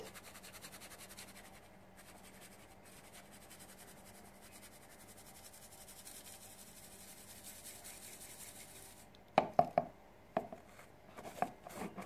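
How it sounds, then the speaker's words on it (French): Corn dog batter pressed through a sieve, a faint soft scraping and rubbing for most of the stretch, followed by a few sharper taps and knocks near the end. "Je préfère tout passer au tamis pour avoir un mélange bien fluide."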